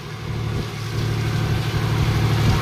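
A mechanized fishing boat's engine runs loud and close with a steady low throb that builds slightly, as if revving up, with no talking.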